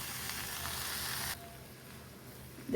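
Fresh coriander leaves for kothamalli chutney hit a hot pan with the stove switched off, giving a steady close sizzle that drops abruptly to a softer, quieter hiss partway through.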